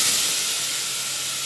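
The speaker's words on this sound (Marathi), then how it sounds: "आता आपण त्याच्यामध्ये टोमॅटो घालून घेऊया." Tomatoes hit garlic frying in a pan, setting off a loud, bright hissing sizzle that fills the short moment and eases slightly toward the end.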